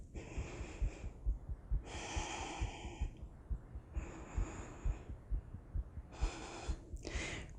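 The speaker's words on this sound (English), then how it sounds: "2 more deep breaths." Deep, slow breaths during a yoga side plank flow, heard as four or five long airy inhales and exhales spaced a second or two apart, fairly close and steady, with no talking.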